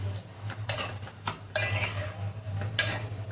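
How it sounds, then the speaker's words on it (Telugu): A utensil clinks and scrapes against a frying pan while chopped tomatoes are stirred in, with several short, scattered clatters over a quiet background. "ఇవి కూడా ప్రాపర్గా మిక్స్ చేసుకోవాలి."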